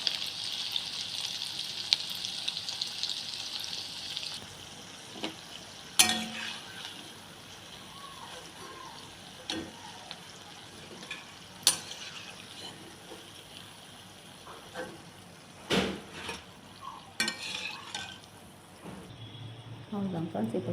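Potato snacks fry in hot oil, with a strong sizzle at first that fades into softer bubbling, broken by occasional clinks and clatters of a utensil in the pan.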